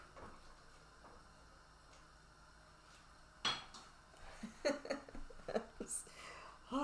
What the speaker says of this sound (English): I will use this moment to stir these beans